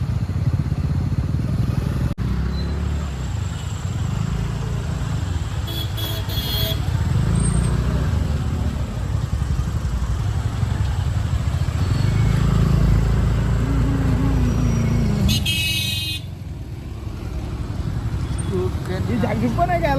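Heavy road traffic with motorcycles and cars, a dense, continuous engine drone and rumble close by, with a brief horn-like tone. People talk over the noise throughout.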